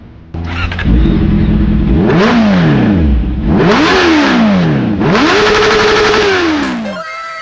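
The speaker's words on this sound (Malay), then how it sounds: "stainless steel full system exhaust. Inilah bunyi dia." Motorcycle stainless steel full-system exhaust revs loudly and repeatedly, the engine pitch climbing and falling in three or four throttle blips, close up.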